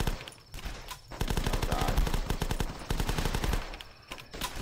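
Rapid bursts of gunfire aimed at zombies in the video game The Last Stand, loud and sustained for several seconds with brief pauses between volleys.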